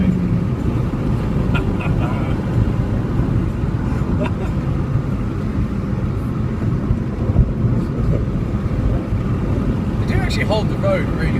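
A car drives along the road with a loud, steady rumble of tyres and wind from inside the cabin throughout, and occasional voices in the car.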